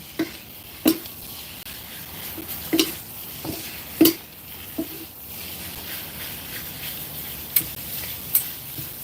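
Sweet mustard greens stir-fried with shallots in a pan, heard as a low steady sizzle broken by sharp spatula scrapes and clacks against the pan at irregular intervals.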